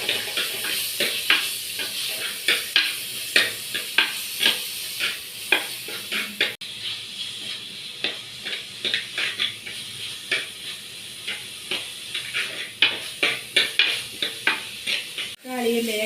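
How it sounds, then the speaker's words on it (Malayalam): Tomatoes sauté in a hot pan for a sardine curry, a steady sizzle broken by rhythmic scraping stirs roughly every half second, close and prominent, with no voices. "തക്കാളിയും നല്ലപോലെ ഇളക്കി വഴറ്റിയെടുക്കുക"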